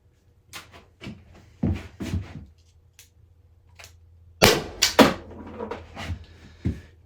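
A Byrna LE less-lethal launcher fires with sharp, close pops. A few light knocks come first, then a cluster of louder bursts with quiet gaps between them.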